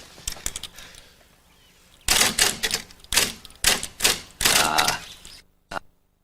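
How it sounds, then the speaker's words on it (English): A busy typewriter clatters in quick bursts of keystrokes, loud and close, with brief pauses between runs and a final lone strike after a short silence. "The sound of a busy typewriter. There's no sound better."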